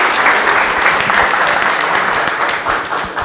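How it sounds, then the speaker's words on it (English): A conference audience breaks into sustained applause after a technical talk on concurrency in Ruby, a broad, even wash of many hands clapping in a hall. "Let's applause."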